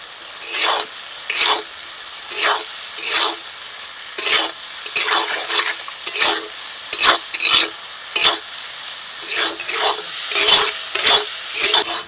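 Fried potatoes being stirred into a spice paste in a pan for a Bengali fish curry, with repeated scraping and sizzling strokes in a steady, uneven rhythm, close and clear with no voices.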